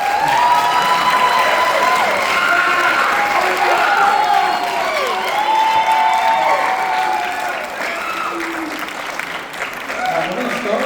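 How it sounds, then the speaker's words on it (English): Audience applauding and cheering for a band at an evening jazz concert, a dense steady crowd roar with whoops and shouts over sustained clapping. "So give a round of applause for them."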